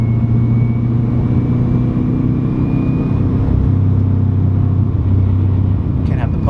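Subaru WRX pulling hard in second gear: a loud, continuous engine drone heard close from inside the car, its pitch shifting slightly as the run goes on.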